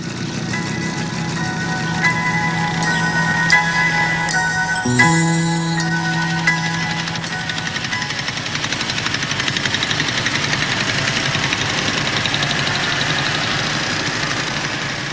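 A motorcycle idles steadily, then the clutch is let out in first gear and the engine note shifts as it pulls away, settling into a rougher, louder mid-range drone.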